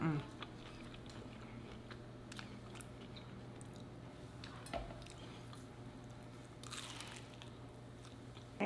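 A birria taco with lime is bitten and chewed close to the mic, giving soft intermittent crunches and wet mouth sounds over a faint steady hum.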